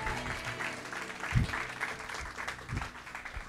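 A church congregation at a French-language sermon claps together in a fairly quiet, steady patter of applause, with a few louder claps standing out.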